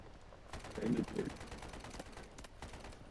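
AKM rifle fire in the game PUBG: several sharp shots and short bursts crack out, some clustered and some spaced apart, under a player's excited voice.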